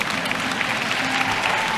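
Audience in a hall clapping during a motivational speech, steady continuous applause at moderate level that carries on evenly for the whole moment with no voice over it.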